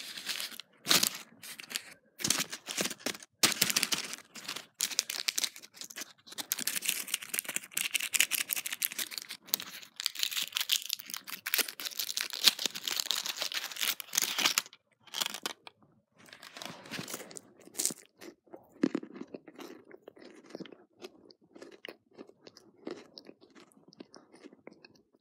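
A Ferrero Rocher chocolate being unwrapped and bitten: sustained crinkling of foil wrapper, then crisp crunches and close, wet chewing, loud and right at the microphone, with no talking.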